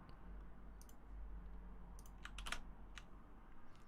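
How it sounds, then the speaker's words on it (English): Typing on a computer keyboard, bursts of quick key clicks scattered over a low steady hum, fairly close and moderately loud. "I actually can use a keyboard, that is."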